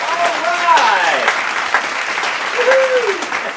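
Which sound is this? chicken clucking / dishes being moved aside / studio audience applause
studio audience applause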